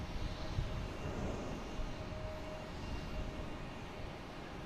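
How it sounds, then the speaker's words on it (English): An airliner arriving at Boston Logan International Airport produces a steady, broad engine roar with a faint whine, heard from a distance with no voices. "We have a Delta coming in from Cancun."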